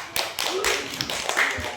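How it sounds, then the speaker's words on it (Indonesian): Students in a classroom clap for a group presenting their project, a short burst of uneven, close claps with some speech mixed in. "tepuk tangan dulu kelompok 2-nya"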